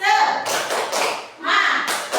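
A primary school class claps out a rhythmic cheer chant together before a lesson, sharp bursts of hand claps in quick patterned groups mixed with children's voices.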